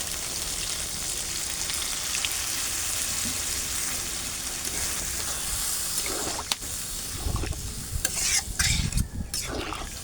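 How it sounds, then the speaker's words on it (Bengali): Chicken skin, potatoes and spices stir-fry in a hot pan with a steady, loud sizzle throughout, while a utensil scrapes and clatters through the mix more often near the end. "মুরগির চামড়া, আলু, মশলা ভালোভাবে ভেজে নিয়েছি।"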